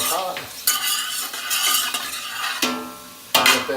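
Bacon and shallots fry in a hot pan with a soft sizzle, while a utensil scrapes and clinks against the pan in several sharp, irregular stirring strokes.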